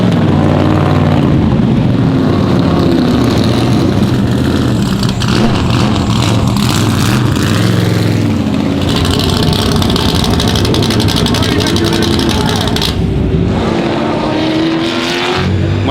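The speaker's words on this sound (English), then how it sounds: "I'm driving a 1960 Corvette." A 1960 Corvette race car drives at the Rolex Monterey Motorsports Reunion, its engine roaring loud and close with shifting revs and a rising and falling pitch as it passes, with no talking.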